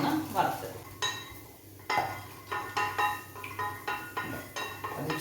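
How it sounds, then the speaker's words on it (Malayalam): Jackfruit seeds being dry-roasted with a little oil in a pan, stirred with a metal spatula: repeated sharp scraping clinks against the pan in an uneven rhythm over a faint sizzle, close and moderately loud, with no talking. "ആദ്യം നമുക്ക് ചക്കക്കുരു ഇട്ടൊന്ന് വറുത്ത്"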